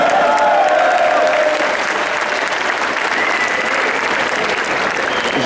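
A crowd applauds steadily and fairly loudly throughout, a dense, continuous wash of clapping with no break.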